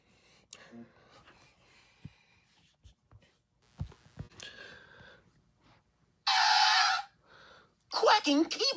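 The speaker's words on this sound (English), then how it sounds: "A quacking sound." Loud nasal honking quacks from a duck burst out in two short clusters near the end, preceded by quiet scattered clicks, taps and breaths.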